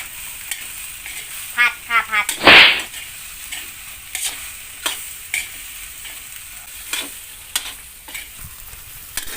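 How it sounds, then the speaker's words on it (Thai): Fish balls stir-fried with red curry paste in a pan, with a spatula scraping and stirring in quick clusters, one loud clattering burst, and scattered lighter taps over a soft steady sizzle. No voices. "คนให้เข้ากันค่ะ"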